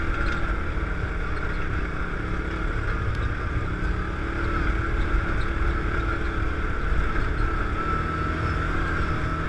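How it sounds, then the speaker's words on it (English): A Yamaha Rhino 700 side-by-side drives along trails with its motor right beside the rider, giving a steady, loud engine drone mixed with wind noise that runs unbroken from start to finish. "This thing's definitely noisier than my four-wheeler though. It's because the motor's right there beside you."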